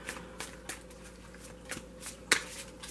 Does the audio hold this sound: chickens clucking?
no